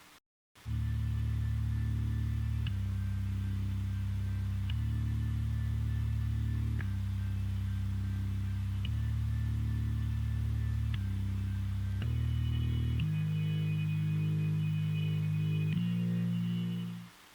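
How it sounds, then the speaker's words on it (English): Deep, sustained organ bass notes shift slowly from chord to chord, a steady low drone with faint higher tones above. "The first one is this organ bass, which is just really low in the mix."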